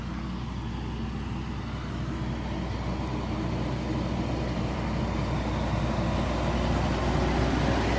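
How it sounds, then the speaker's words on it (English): A dump truck rolls steadily past at a construction site for a resident bird care building, its broad, low engine rumble sustained and growing slightly louder as it nears, with no voices. "We'll let our dump truck guy go by."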